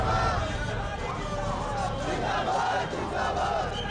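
Crowd of ordinary people on the streets protesting the transfer of an honest officer, shouting slogans together, a dense steady roar of many voices close by.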